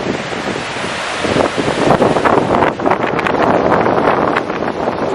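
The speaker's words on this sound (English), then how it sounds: "Winds never stop here sometimes." Strong wind blows along the Lake Superior shoreline, buffeting the microphone with a loud, continuous roar, with surf faintly mixed underneath.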